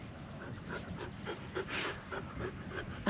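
A dog pants quickly and steadily nearby on Koh Samui, Thailand, rhythmic breathy huffs continuing for a few seconds.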